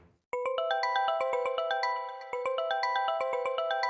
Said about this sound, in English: And then, one day, the phone rang.